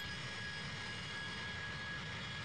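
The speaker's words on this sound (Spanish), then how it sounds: "Y el sonido de los motores bastante guays" Jet airliner engines in the X-Plane 11 flight simulator during a visual approach near Lima, a steady, moderately loud turbine roar with a thin, constant high whine riding on top.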